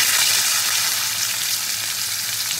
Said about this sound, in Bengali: এবার আমি এই তেলে এঁচোড়টাকেও একটু ভেজে নেব।